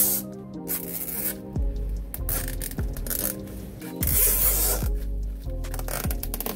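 Rapid ratcheting zips of zip ties being pulled tight while securing a heavy engine part in a shipping crate, repeated in several quick bursts with brief rubbing and handling noises between.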